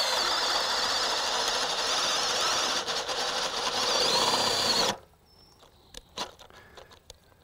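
A cordless drill driving a 3/4 inch bit at 1550 RPM whines loudly and steadily for about five seconds, then stops abruptly, leaving a few faint clicks and knocks.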